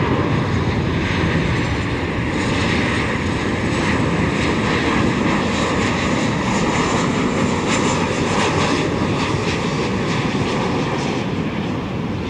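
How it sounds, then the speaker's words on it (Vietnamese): A Bamboo Airways Boeing 737-900 airliner, arriving from Noi Bai, lands at Tan Son Nhat airport with a loud, continuous engine roar that holds steady for the whole stretch. "chiếc Boeing 737-900 của Bamboo Airways, chiếc máy bay thực hiện chặng bay từ sân bay Nội Bài, thủ đô Hà Nội về đến sân bay Tân Sơn Nhất"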